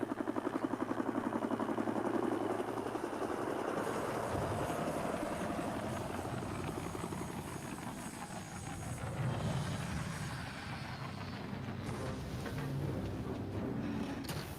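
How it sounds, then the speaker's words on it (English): Helicopter in a video game, a steady whirring rotor and engine drone that carries on at moderate loudness throughout, swelling and fading slightly, with no talking over it. "Now there's a helicopter."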